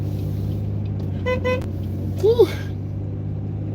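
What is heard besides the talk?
road traffic passing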